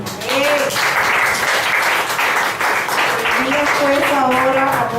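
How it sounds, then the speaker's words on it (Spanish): A church congregation applauds in a sustained, dense patter of clapping, loud and close, while a voice carries on over it. "Dale un aplauso al Señor."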